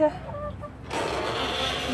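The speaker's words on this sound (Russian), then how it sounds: "Тут куры. Вон большие. Там цыплята" Chickens clucking in short soft bursts, followed by a louder stretch of hissy barnyard noise.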